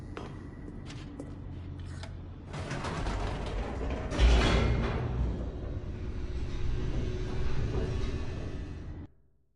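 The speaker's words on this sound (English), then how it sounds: "The elevator raced downward, plummeting towards an unknown fate." An elevator in The Stanley Parable descends with steady mechanical rumbling, grinding gears and ratcheting clanks that swell midway with a heavier surge, then stops abruptly near the end.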